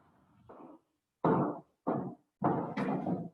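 A noisy door in an office during an online training session thuds and knocks in four separate bursts, the later ones louder and closer, with quiet gaps between them.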